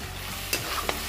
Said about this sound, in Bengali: ক্যাপসিকাম আর পেঁয়াজটাও বেশ ভাজা ভাজা হয়ে গেছে, দেখাই যাচ্ছে যে পেঁয়াজটা ট্রান্সপারেন্ট হয়ে গেছে। এবার সসটা দিয়ে দিলাম